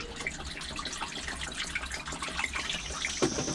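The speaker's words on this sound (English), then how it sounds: "Time to put the water in and see if it holds it." Water pours steadily into a car engine's cooling system, a soft continuous gush and trickle heard close by without speech.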